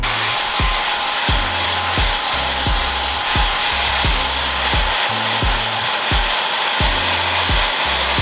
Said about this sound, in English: a hair dryer so that we can heat up the glue on the reflector